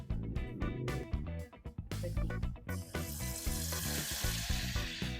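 Oil sizzles in a pan while food fries in a home kitchen during a Ganesh festival, the hiss swelling loud and steady halfway through over music playing underneath.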